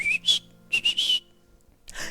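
A small robot in an animated story answers with short bursts of bright, chirpy whistling, several quick warbling notes in two clusters separated by a brief pause, close and clear with no talk.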